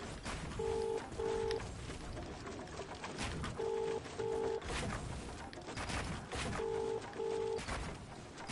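A phone dials out a call: three bursts of paired DTMF keypad tones, each pair of beeps clear and loud over steady background noise and rumble.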